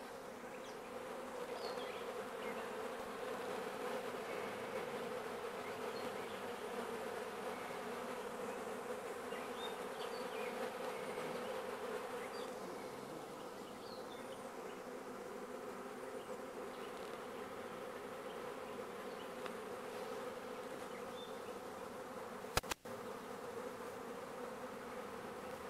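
A swarm of honey bees drones in a dense, steady buzz close around, moderately quiet and unbroken, with a single sharp click near the end.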